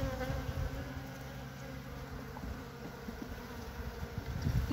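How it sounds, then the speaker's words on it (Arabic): Honeybees buzz steadily at a hive with a low colony where honey is scarce, a dense continuous drone close to the listener with no voices. "نقصات بزاف هاد الكوبا ديال النحل."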